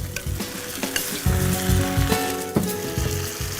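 Masala sizzling loudly in a pan while being mixed, a dense crackling fry punctuated by repeated spoon scrapes and knocks against the pan, close and alone.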